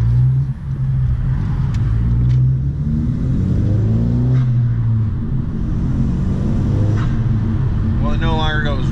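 A 2017 Honda Civic engine with Ktuner V2 firmware rumbles and revs steadily throughout, rising and falling in pitch, with a voice speaking faintly underneath.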